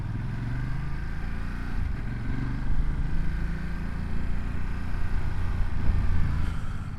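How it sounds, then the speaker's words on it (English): Steady rumbling of a 2026 Ducati Multistrada V2S motorcycle engine with a low exhaust drone while riding, swelling slightly as it accelerates, heard close with wind noise. "I hope you can hear some of the exhaust sound on it."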